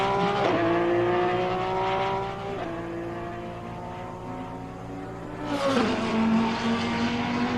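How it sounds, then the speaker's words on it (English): A Porsche race car in the racing game Assetto Corsa Competizione roars steadily, its engine pitch sweeping up and down through gear changes, with a louder surge near the end. "That sounds like another Porsche."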